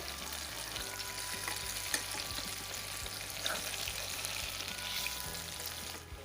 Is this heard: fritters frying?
yes